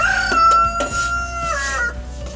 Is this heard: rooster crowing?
yes